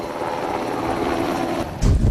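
A military helicopter at the JSA in Panmunjeom during a joint US-South Korean emergency air evacuation drill gives a loud, continuous rotor and engine roar close by, which swells even louder near the end.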